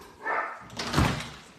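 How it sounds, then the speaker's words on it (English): A pet dog barks twice, close and loud, in two sharp bursts with a brief gap between them, indoors with no talking. "my dog's just going mad"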